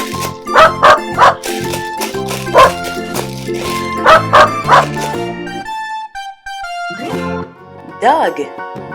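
A dog gives a run of short, bouncy barks in clusters over cheerful music, followed by a brief whimpering yip near the end.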